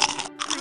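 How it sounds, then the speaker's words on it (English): Potato chips crunched in a cartoon eating scene, two sharp crisp bites close up with a brief pause between them, no talking. "Fry and I were just eating potato chips here."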